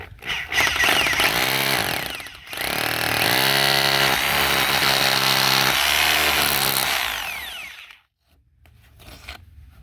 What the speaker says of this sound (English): I'm going to drill until I hit my depth gauge